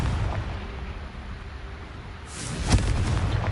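A Confringo spell in the video game Hogwarts Legacy blasts vases, heard as one sharp burst with crackling debris over a steady game background.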